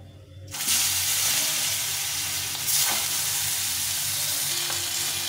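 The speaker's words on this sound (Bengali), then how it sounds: "বাকি মাছগুলো ভেজে নেব।" Folui fish pieces frying in oil start with a sudden loud burst of sizzle after a quiet half second, then settle into a strong, steady crackling hiss close by, with no voices.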